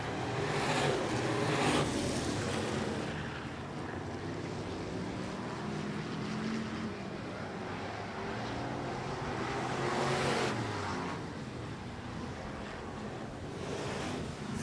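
Race cars circling at Sunset Speedway Park, a sustained engine roar with wind-buffeted rumble, surging louder as the pack sweeps by and easing off in between, heard from some distance.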